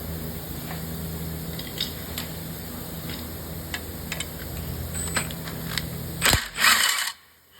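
A ratchet loosens a 17 mm transmission bolt on a 2016 Hyundai Elantra 1.8, quiet irregular clicking ticks close by under a low hum, ending in a few louder metallic clatters.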